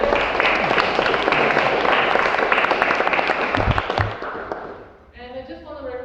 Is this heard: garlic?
no